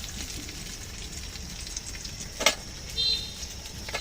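Potatoes frying in oil alongside crab pieces, a soft continuous sizzle and crackle close by, with a couple of sharper pops and brief flares in the hiss.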